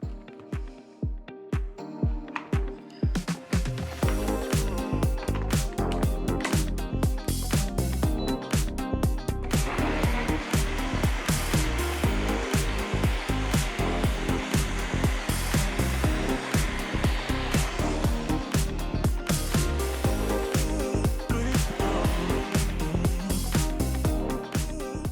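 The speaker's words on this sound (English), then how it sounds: "We're gonna blend it up nice and good and then warm it up." A blender whirs loudly and steadily up close as it purees a coconut milk winter smoothie with coconut flakes, after a few short pulses at the start, running continuously to the end with no talking.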